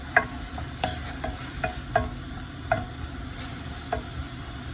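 Onions with green chilies and salt cook in a pot, giving a quiet steady sizzle broken by a series of sharp ticks and clinks of a spoon stirring against the metal.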